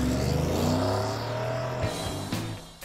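A 2021 Ford F-150 pickup's V8 engine rumbles deep and loud up close, holding a low throaty growl and then shifting pitch as it revs.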